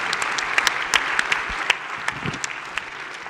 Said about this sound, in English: Let's give a big round of applause to all of the award winners, as well as all of the submissions for this year.